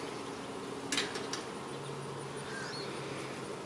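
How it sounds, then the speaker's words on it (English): Honey bees buzz around an open beehive during a hive inspection, one bee diving close. The droning is fairly faint and steady, with a few brief louder passes near the microphone. "I got a very angry bee face diving me."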